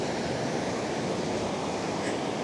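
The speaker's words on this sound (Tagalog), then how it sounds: "Ganyan kalakas ang alon." Sea waves break on a beach in Vietnam, a steady, loud wash of surf filling the scene without a break and no talking.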